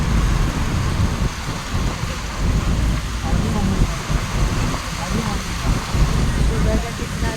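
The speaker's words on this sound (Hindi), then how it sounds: "कितनी अच्छी बारिश हो रही है।" Steady, heavy rain in Delhi with a dense broadband hiss and low rumble, continuous and fairly loud, with no clear voices.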